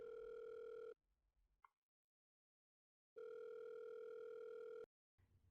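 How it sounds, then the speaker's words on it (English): Steady telephone tone played in a stage production: a long sustained beep, a pause with faint clicks and near silence, then the tone resumes and cuts off, with a short burst of noise at the end. "Dottie picks up her phone and begins to dial."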